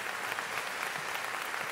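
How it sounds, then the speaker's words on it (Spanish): Church congregation applauding, a steady, moderately loud patter of many hands clapping together without pause, with no voices standing out. "Dele un aplauso a Dios, hermano."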